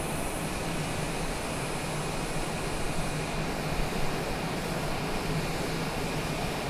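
Steady airplane engine drone inside the cabin during a teardrop approach to Montego Bay, Jamaica, a constant broadband roar with a faint tonal whine, even and unbroken throughout.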